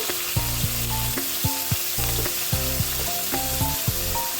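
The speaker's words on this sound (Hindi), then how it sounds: "जीरा डालने के बाद हम साथ में ही इसके अनियंस को, अपने कटे हुए प्याजों को हम ऐड कर देंगे" Chopped onions sizzle loudly in hot oil with cumin in a pan, a steady dense frying hiss, with repeated stirring clatters and a low rhythmic hum underneath.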